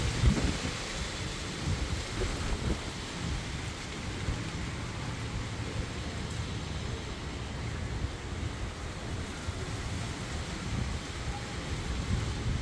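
Heavy rain pours steadily in an urban area during a windy storm, a dense continuous roar with low thunder rumbling underneath, close and fairly loud throughout with no voices.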